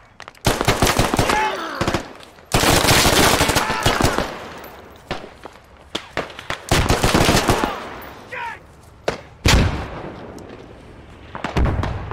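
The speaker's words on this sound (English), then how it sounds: "somebody kill that fucking MG, dude" Machine gun fire in a multiplayer shooter video game: loud, dense automatic bursts with sharp individual shots and heavy booms, broken by brief pauses over about twelve seconds.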